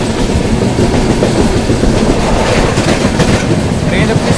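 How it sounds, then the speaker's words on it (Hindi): The 12141 Patliputra SF Express rolls through Dildarnagar Junction, heard from on board as a loud, steady rumble with rhythmic clickety-clack of wheels over rail joints, filling the whole stretch without talk. "Skipping Dildar Nagar junction."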